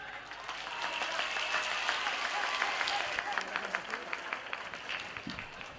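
A school audience applauds in a moderately distant burst of clapping that swells and then thins into scattered individual claps.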